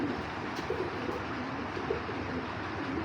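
A three-year-old male Giribaz pigeon of the Parla line coos, its low, soft calls repeating under a steady wash of background noise throughout.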